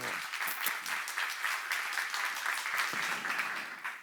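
A church congregation applauds continuously through a sermon, a dense, even clapping that fills the room from start to finish without any break.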